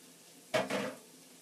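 Garlic dropped onto onions in a hot pan for roasted butternut squash soup, a sudden short sizzling burst that swells twice and fades within a second against a quiet kitchen background.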